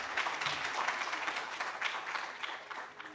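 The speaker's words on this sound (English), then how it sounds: "Everyone, please give him a big round of applause." Audience applause for a speaker at a university botany course event, a steady, dense wash of clapping from a room full of people that holds evenly for the whole stretch with no voices.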